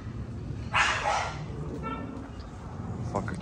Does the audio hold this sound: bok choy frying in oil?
no